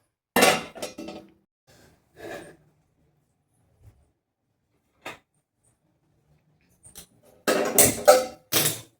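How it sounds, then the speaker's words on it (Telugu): A metal bowl is taken out and handled in a home kitchen while pasta is prepared, giving a few sharp clinks and clatters: a cluster at the start, scattered light taps, then a louder burst of knocks near the end. "ఫస్ట్ అయితే ఒక గిన్నె తీసుకొని"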